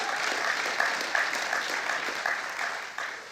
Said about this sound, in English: So a round of applause for all those folks.